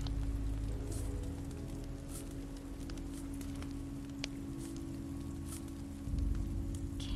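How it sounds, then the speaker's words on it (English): Steady rain falling in a wintry outdoor scene of The Walking Dead Season 2 video game, a continuous dense patter with a low droning background, holding at an even level throughout. "This rain will turn to sleet."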